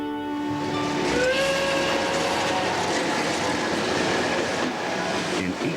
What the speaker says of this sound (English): young Garrett hopped a freight train and left Paris, Kentucky, bound for Cincinnati, Ohio.